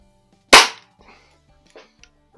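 A single sharp crack from a Benjamin Trail NP nitro piston break-barrel .177 air pistol, loud and close, followed by a few faint clicks and handling noises.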